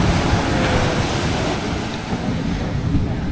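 Sea waves surging and washing continuously, with heavy wind rumbling across the microphone, at a shore where the water is brown, loud and steady throughout with no voices.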